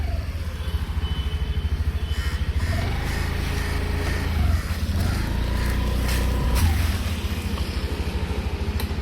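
A new Honda Activa 125 scooter runs with a steady low engine drone that rises briefly as the rider eases along slowly, with no talking.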